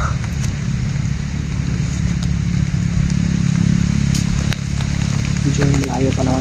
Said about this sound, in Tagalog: medyo malayo naman yung mga dumadaan na motor.